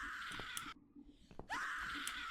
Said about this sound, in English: The screaming got louder.